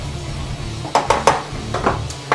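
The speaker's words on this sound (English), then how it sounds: "the thing about stir fries is keep the product moving. Keep it moving." Pad Thai being stir-fried in a pan: metal utensil clanks and scrapes against the pan in quick irregular bursts over a steady low background hum.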